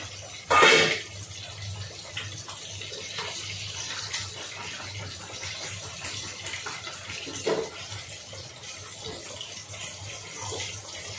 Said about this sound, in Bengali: এগুলোকে ধুয়ে নিই সব করে।